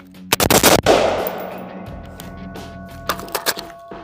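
A premium rifle, chambered after being coated in fine dirt for a torture test, fires a rapid burst of loud, close shots, followed by a ringing decay and a few more quick reports, no talking.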